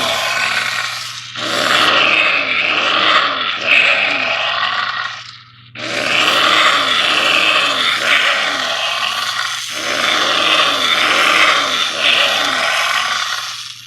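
Animated vintage Halloween gatekeeper gargoyle decoration with flapping wings lets out loud, rasping growls and roars in two long bursts separated by a short pause, close and alone.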